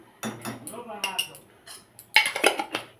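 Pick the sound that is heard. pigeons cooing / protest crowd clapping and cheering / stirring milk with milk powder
stirring milk with milk powder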